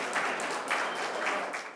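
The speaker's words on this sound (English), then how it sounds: "Round of applause, please." Audience applause at a SUNY Downstate anniversary ceremony, a short burst of steady, fairly distant clapping from a crowd with no voices over it.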